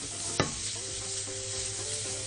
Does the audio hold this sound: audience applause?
no